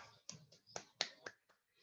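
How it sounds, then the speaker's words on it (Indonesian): A handful of faint, scattered claps pop at an uneven pace in a classroom, quick sparse applause for the pupils Oki and Lista, with quiet gaps between them. "Tepuk tangan buat Oki dan Lista."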